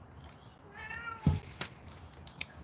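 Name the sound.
cat meowing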